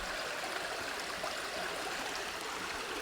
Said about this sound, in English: Water, flowing, draining, passing.